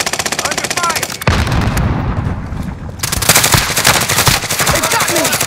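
Sustained automatic gunfire in a multiplayer shooter video game, loud and rapid bursts with a brief lull before the shooting resumes just as intensely, a short voice heard among the shots.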